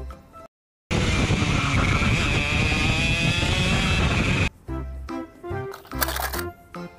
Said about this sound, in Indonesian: Di sini ada mobil balap go-kart.